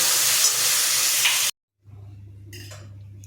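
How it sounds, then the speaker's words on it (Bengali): Potatoes seasoned with salt and turmeric fry in hot oil in a wok, giving a loud hissing sizzle that cuts off abruptly, followed by a quieter low hum and a faint sizzle. "তেলে আলুগুলো দিয়ে আলুগুলো লাল লাল করে ভেজে নেব।"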